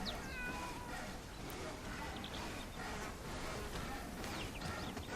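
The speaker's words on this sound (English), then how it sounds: "You can pet the cat." A cat in the video game Bellwright meows several times in a busy in-game town, the calls standing out over steady ambient game sound.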